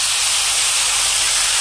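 Tamarind pulp hits a hot pan of tempered seasoning for temple-style pulihora, giving a loud, steady hiss and sizzle with no talk throughout.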